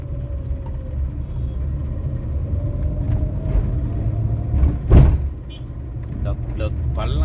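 Road traffic on a small road heard from inside a moving bus: a steady low engine and tyre rumble with a sharp bump or knock near the middle, then continued drone.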